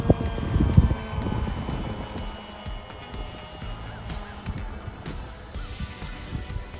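An FMS 2000mm Beaver V2 RC model airplane flies on a windy day, its electric motor a faint, distant drone beneath gusty wind noise and rumbling handling sounds.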